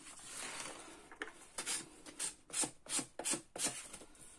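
Paper fluff being filed off the edge of a paper craft piece, a series of short scratchy rasping strokes that quicken into a regular rhythm, close and fairly quiet with no talk.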